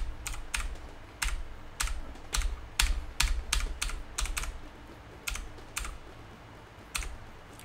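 Computer keyboard keys clicking during a keyboard check while testing a 6502 retro game, including the spacebar: about twenty sharp, close clicks in irregular bursts and pauses over a low background hum, with no speech.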